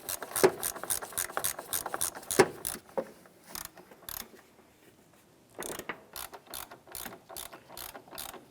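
Ratchet wrench tightening an engine mount bolt on a 2004-2008 Acura TL, its pawl clicking in steady rapid bursts of strokes, pausing midway, then resuming in a slower, regular rhythm up close.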